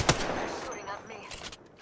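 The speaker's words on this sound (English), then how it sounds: "They're shooting at me." Video game gunfire crackles in a quick burst of sharp shots, up close and fairly loud, followed by a few fainter reports over a short span.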